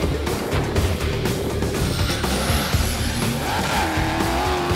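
Rally cars on a 3 km sand beach prologue in Egypt, with loud engine roar and tire noise from cars racing close by, continuous and without talk.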